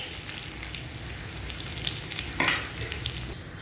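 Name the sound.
groundnuts and green chilies frying for sabudana khichidi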